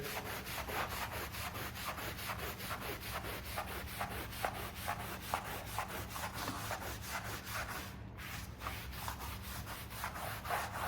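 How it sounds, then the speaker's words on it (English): A drill-mounted rotary brush scrubs carpet in a steady rhythmic rasping rub, continuous and fairly quiet, with no talking. "we'll use the drill brush on that side"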